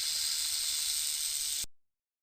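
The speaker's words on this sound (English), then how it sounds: "Snake." Snake hissing as a steady, close, bright airy hiss that holds evenly for about a second and a half, then cuts off abruptly into silence.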